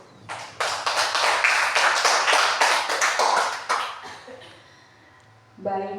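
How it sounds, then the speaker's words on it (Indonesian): An audience applauds at the host's request to close an Indonesian teachers' training session, a burst of dense clapping lasting about four seconds before fading, with a brief voice afterward. "Saya minta tepuk tangan dulu."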